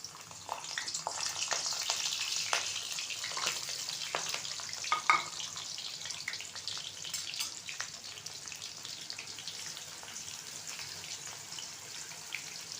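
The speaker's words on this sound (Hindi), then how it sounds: "घी हमारा गर्म हो गया, अब हम इसमें प्याज डालेंगे।" Onions sizzle and fry in hot ghee for chicken pulao, a bright crackling hiss with stirring scrapes, loudest at first and settling into a steady sizzle.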